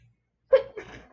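A single sharp human sneeze bursts out after a moment of silence, loud and close, followed by a brief breathy tail.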